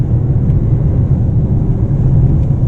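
Inside a 2021 Mercedes-Benz S 580 under way, a deep steady low engine drone and road hum fill the cabin, smooth and continuous with no talking.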